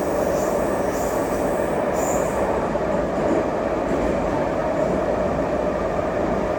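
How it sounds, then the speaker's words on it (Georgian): A Baku metro train rumbles steadily along the track, its wheels squealing faintly and clacking over rail joints in a continuous, fairly close drone with no voices. "ჩავდივართ ბაქოს მეტროში"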